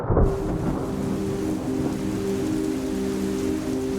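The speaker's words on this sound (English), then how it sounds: "It's a stormy night." Steady rain hissing down during a night thunderstorm, with a low rumble of thunder and a faint musical drone running underneath, continuous and moderately loud throughout.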